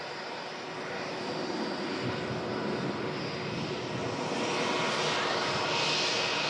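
An EasyJet airliner takes off at Manchester Airport, its engines roaring as a loud, steady broadband rumble that swells slightly toward the end, with no talking.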